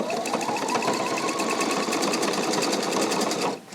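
A Pfaff sewing machine runs steadily while sewing ribbon stitches, a fast, even mechanical whir with rapid rhythmic ticking that holds for several seconds and then stops near the end.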